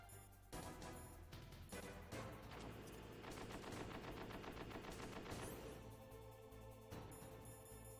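Rapid bursts of gunfire from the video game Metal Gear Solid ring out loudly through most of the stretch, with quick repeated shots over game music and effects.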